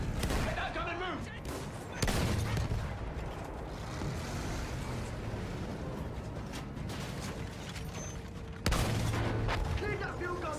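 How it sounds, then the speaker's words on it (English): Battlefield 1 battle scene with dense, continuous gunfire and booming field gun blasts, including sharp loud bursts near the start and again later, under a constant roar of combat, with shouted voices mixed in. "Those machine guns are holding our lads back."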